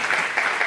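Audience clapping at a conference talk on addiction treatment workforce, a brief dense patter of many hands filling the room at moderate level, with no talk over it.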